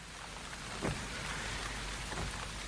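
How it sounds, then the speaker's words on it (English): Steady rain falls on a rural lane outside a church, a dense, even hiss of drops on surfaces with a couple of slightly louder spatters, continuous and close with no voices. "The rain is clearing,"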